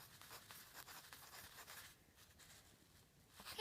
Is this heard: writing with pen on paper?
yes